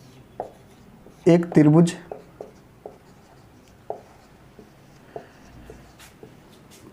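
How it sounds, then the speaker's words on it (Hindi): A question is written on a board, with chalk taps and short scratchy strokes scattered across several seconds, while someone speaks briefly in Hindi partway through. "देखना, क्वेश्चन लिखता हूं।"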